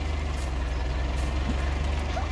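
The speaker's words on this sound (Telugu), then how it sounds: "కార్ ఏంటి ట్రాక్టర్ సౌండ్ వస్తుంది, ఇదైతే విచిత్రం" A car in the Farming Simulator 19 video game running with a tractor engine sound, a steady low throbbing diesel rumble that stays loud and even, with faint brief chirps above it.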